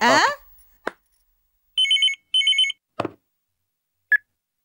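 A telephone rings twice in short trilling bursts, surrounded by brief clicks and a short voice at the start, then a single beep.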